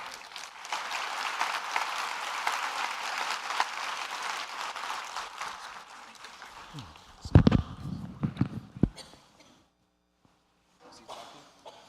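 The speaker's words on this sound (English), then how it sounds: "Please give him a round of applause." Keynote audience at the Zoholics USA 2025 conference applauding a speaker: steady, dense clapping fills roughly the first seven seconds, then a few louder thumps and knocks follow before the room goes nearly quiet.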